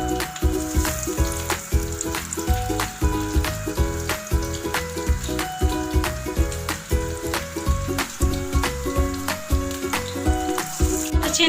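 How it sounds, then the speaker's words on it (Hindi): Breadcrumb-coated chicken nuggets frying in hot ghee give a steady, dense sizzle throughout, partly masked by loud rhythmic background music with a regular beat. "उसके बाद हम ब्रेड क्रम्स का कोट करके इसको घी में फ्राई कर लेंगे।"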